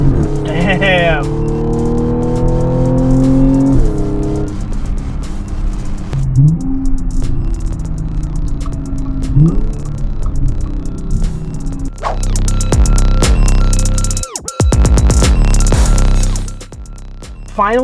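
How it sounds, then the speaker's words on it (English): A supercharged 2013 Audi S4 engine revs repeatedly, its loud intake and engine note rising and falling in pitch, ending in a harder, sustained rev. "it could be the sound of that intake because it makes that supercharger alive."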